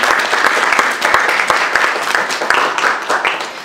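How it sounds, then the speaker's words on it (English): A school parent-teacher association meeting audience breaks into sustained, dense applause, loud and close throughout with no speech over it. "If we could give a round of applause for Ms. Todd."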